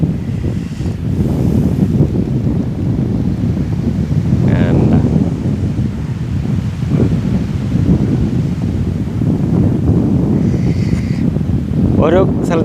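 Sea waves and wind at Juhu Beach in Mumbai, a steady broadband roar of surf and gusting wind that fills the whole stretch, with faint voices and brief high calls drifting through in the background.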